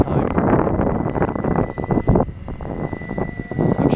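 A Flywing BO105 model helicopter flying outdoors in heavy wind, its motor and rotor whine humming steadily under loud, gusty wind rumble against the microphone over a few seconds.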